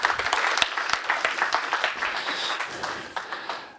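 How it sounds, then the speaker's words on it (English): Summit audience applauding panelists as they come on stage, a moderate room of clapping with distinct sharp claps over a steady wash that slowly thins out. "Let's give them a round of applause"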